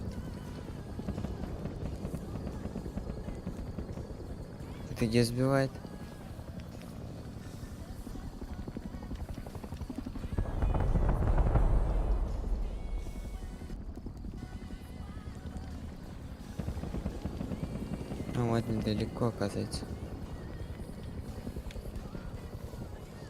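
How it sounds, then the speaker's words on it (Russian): Helicopter in the survival game Rust, a steady rotor chop droning through the whole stretch and swelling louder around the middle, with people talking over it. "Кого это? Вертушка."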